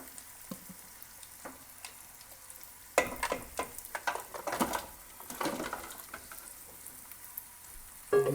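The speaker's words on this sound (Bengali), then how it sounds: "একটু নাড়া দিয়ে দেবে।" Beef bones being stirred into a pot for Bangladeshi beef nihari, giving a steady close sizzle with scraping, clattering stir strokes that grow busier and louder midway, no talk.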